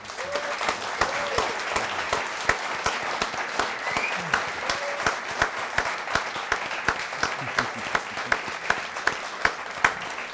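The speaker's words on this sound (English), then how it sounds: "So let's give Julian another round of applause" A studio audience applauds a jazz pianist and broadcaster at an evening show, steady sustained clapping from a moderate crowd, heard fairly evenly at a distance without talk.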